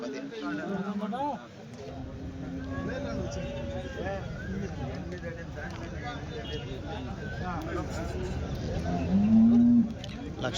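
Several cows moo at a Sunday cattle market in Chintamani, some close and drawn out, over a busy background of people talking and haggling over prices. One especially loud moo comes near the end.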